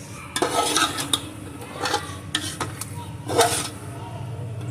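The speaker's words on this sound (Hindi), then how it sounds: "ये 6 टमाटर जो हमने तैयार करके रखे हुए थे वो इसके अंदर हम डाल देंगे और इसको भी हम मिक्स कर लेंगे" Chopped tomatoes tipped into masala in a pan and stirred, with a few bursts of scraping and clatter over a low sizzle, and a voice talking underneath.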